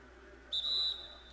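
A referee's whistle blows in a PS4 basketball video game during a Lakers possession, one sharp sustained shrill blast of about half a second over low arena crowd noise.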